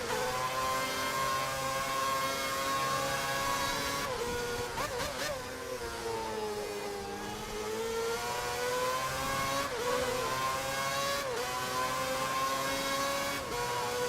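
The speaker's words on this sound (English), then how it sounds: "Try and keep the revs low, and not use too much fuel in this thing." A Formula 1 race car engine at the Bahrain circuit in an F1 video game screams continuously at high revs, its pitch dipping and climbing through gear changes and throttle lifts.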